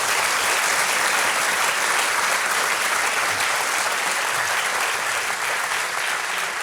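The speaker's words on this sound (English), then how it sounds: "Can we have a round of applause for them?" Sustained applause from an audience at a medical school Hippocratic Oath ceremony, steady and dense clapping throughout with no pauses.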